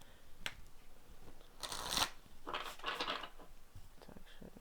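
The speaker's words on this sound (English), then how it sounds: "I'm just going to say a small prayer um, while I do one more shuffle" A deck of tarot cards is shuffled by hand. A few quick riffling bursts come close and fairly soft, separated by short pauses and light handling noises, with no talking.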